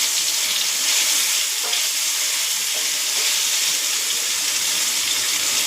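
Paneer cubes frying in a pan give a loud, steady, close sizzle of hot oil, a continuous crackling hiss throughout with no voices.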